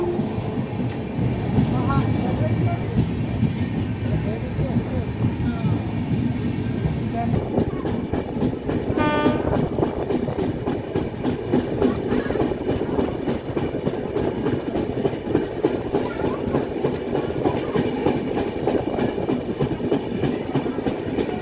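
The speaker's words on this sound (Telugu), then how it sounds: "ఇది కానీ ఫైనల్గా మన గోదావరి సూపర్ ఫాస్ట్ ఎక్స్ప్రెస్ అయితే పిఠాపురం వచ్చేసి" The Godavari Superfast Express pulling into Pithapuram station, a loud continuous rumble of rolling carriages with rhythmic clickety-clack of wheels and a brief squeal, with voices talking over it.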